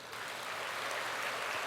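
A church congregation at a Sunday sermon claps together in a steady, faint patter of applause, heard from some distance and lasting the whole short stretch.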